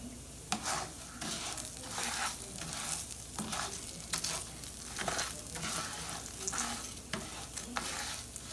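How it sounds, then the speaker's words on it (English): Rice frying in olive oil in a pan, a steady sizzle with intermittent stirring and scraping throughout, close and moderately loud with no talking. "And I'm frying my rice with some olive oil."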